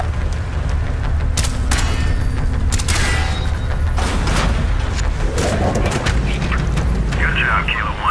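Gunfire from a Call of Duty: Black Ops mission, shooting out door hinges, rings out as repeated sharp cracks and booms over a steady layer of game noise, with a voice talking throughout.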